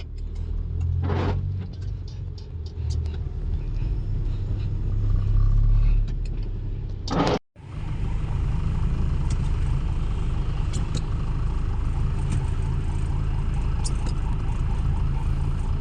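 Heavy road traffic heard from inside a car: a constant low engine and tyre rumble with passing vehicles, a brief dropout midway, then the steady drone resumes, loud and close throughout.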